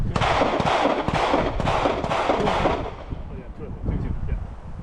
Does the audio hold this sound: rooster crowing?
no